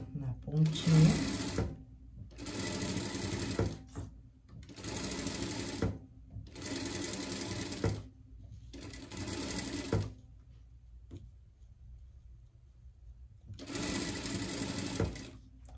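A home sewing machine stitches an appliqué onto an Easter pet dress in five or six bursts of rapid mechanical whirring separated by quiet pauses, close and clear.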